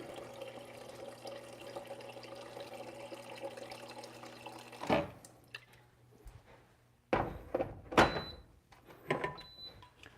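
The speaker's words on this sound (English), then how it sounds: "So I'm using just the regular filter water from refrigerator." Filtered water from a refrigerator dispenser runs in a steady, faint stream for about five seconds, then stops, followed by a few clacks and knocks of handling.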